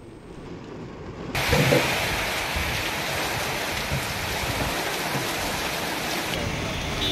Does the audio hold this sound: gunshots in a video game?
no